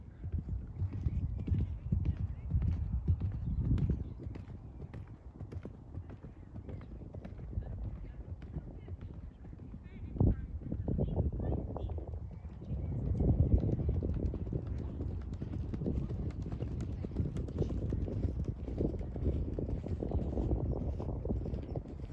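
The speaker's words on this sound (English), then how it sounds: "Great place for a canter here, just very easy ground, easy terrain for these horses." Horses cantering on easy ground in Bushy Park, London, with steady rhythmic hoofbeats drumming close by over wind noise, a brief whinny in the mix, and voices talking at points.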